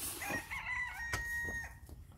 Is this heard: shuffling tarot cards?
no